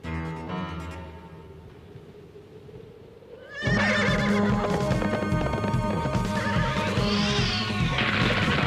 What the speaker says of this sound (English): I wouldn't want the horse to get nervous. Easy, boy. Easy.